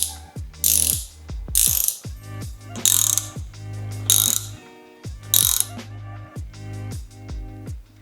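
An impact wrench drives an IWS-1632CF ProPress crimping tool to press copper pipe: loud, close bursts of rapid hammering, about six separate runs of a second or so each, broken by short pauses. No one talks.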